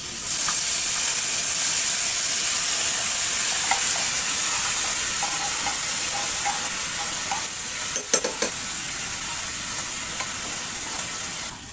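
Corned beef frying in a pan with onions, giving a loud, steady, close sizzling hiss that holds throughout, with a few faint clinks of a utensil near the end.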